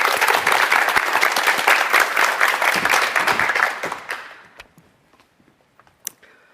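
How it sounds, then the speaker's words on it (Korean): A lecture audience welcomes a speaker with applause, a loud, dense burst of clapping that thins out after about four seconds into scattered last claps and near silence. "여러분 큰 박수로 청해"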